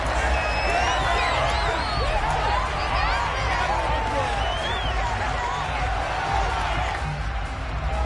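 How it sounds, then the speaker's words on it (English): Football stadium crowd shouting and cheering during a replay, a dense continuous roar of many voices with whoops rising above it, loud and steady throughout. "Plenty of shouts from this crowd as they watch the replay."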